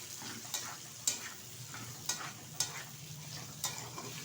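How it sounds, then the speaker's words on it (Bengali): Capsicum, carrot and beans stir-fried in a pan, a soft continuous sizzle punctuated by about six sharp metallic scrapes and clacks of the spatula at a steady rhythm. "ঢেলে দিলাম এর মধ্যে। এবার ভালোভাবে একটু ভেজে নেব।"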